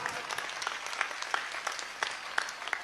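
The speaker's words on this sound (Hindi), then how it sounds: "आपकी तालियों में शोर कम था, आपकी तालियां कम थी" Crowd at an outdoor Hindu unity march rally claps with scattered sharp individual claps over a steady wash of applause, moderately distant and fairly quiet, with no voices on top.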